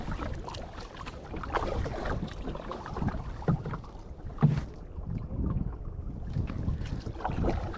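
Kayak paddling on Lake Louise from a Tucktec folding kayak, rhythmic paddle strokes splashing and dripping close by in repeated pulses, with wind buffeting the microphone.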